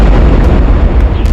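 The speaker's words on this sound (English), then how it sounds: "Boom! The cannon roared with a direct hit on the church steeple." A World War I-era artillery cannon firing at a church steeple, a loud, deep, rumbling blast that fills the whole moment, heavy in low end, with no talk.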